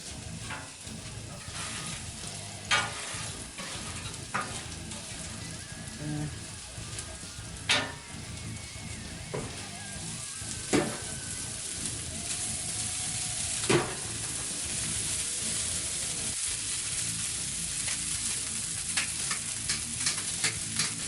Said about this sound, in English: We'll get some olive oil down there to start with, just as a base to put our rice down.